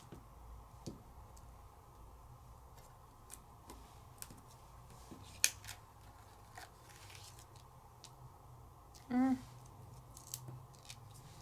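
Scissors snip through glitter paper while cutting out flower shapes, giving a series of faint, sparse clicks and snips, with one brief louder burst near the end over a quiet background.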